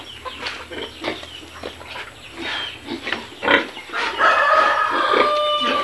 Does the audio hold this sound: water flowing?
no